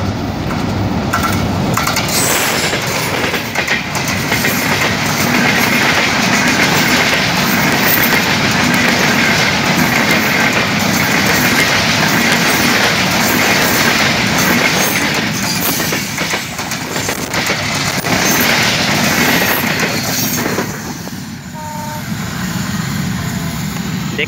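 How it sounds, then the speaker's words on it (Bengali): A train passes along a village railway line, its carriages rumbling with a steady clickety-clack of wheels on rail, loud and close for the whole span before easing slightly near the end. "এই মুহূর্তে অঝর ঝরায় ট্রেন আসিতেছে।"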